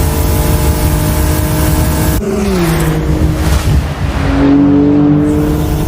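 An anime race car engine roars loudly and steadily at top speed on the Odawara Pikes Peak course, its pitch shifting as it closes in and passes, with a second engine note rising into the mix.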